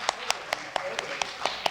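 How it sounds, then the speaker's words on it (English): An audience at an evening opening of a Peanuts exhibit claps in a steady rhythm. Sharp, evenly spaced claps come fairly close, suggesting a few hands rather than a large crowd. "yes, applause for Kirk."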